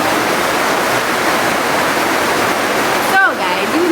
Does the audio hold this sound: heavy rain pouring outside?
yes